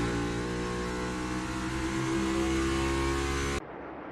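NASCAR Cup race cars scream around the Phoenix oval in the 2024 championship race, a loud sustained high-revving engine roar that cuts off abruptly near the end to a quieter crowd-and-track background.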